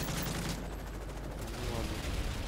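Rapid, dense AK rifle gunfire from Call of Duty: Modern Warfare 3, a loud, continuous burst of shots with heavy rumble lasting the whole moment.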